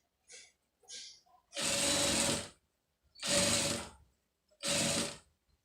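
A sewing machine stitches the lining of an embroidered blouse in three loud, close bursts of rapid mechanical whirring, about a second each, with short quiet gaps and a few faint handling taps before them.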